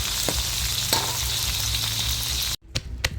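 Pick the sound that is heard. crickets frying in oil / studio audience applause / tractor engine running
crickets frying in oil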